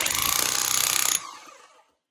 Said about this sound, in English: you've got to come underneath with the jackhammer